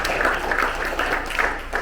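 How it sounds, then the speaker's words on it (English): Audience applause at a film premiere in Miamisburg, a steady crowd of clapping filling the whole short stretch at a moderate, even level with no speech over it. "let's get a round of applause to everyone else"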